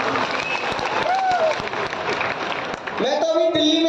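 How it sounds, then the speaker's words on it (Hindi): A crowd applauds at a comedy poetry gathering during the Madhubani festival, dense sustained clapping filling the hall, with a voice or tonal sound rising near the end. "जोरदार तालियां बजाएं"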